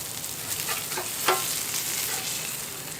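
Smashburger patties fry on a buttered griddle, a steady close sizzle with a brief sharp scrape as a patty is pressed or flipped with tongs partway through.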